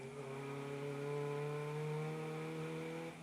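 A single race car at Brands Hatch circuit in the MSVT SuperCup passes with a sustained, buzzing high-revving engine whose tone holds and shifts slightly, heard at a moderate distance with no talking.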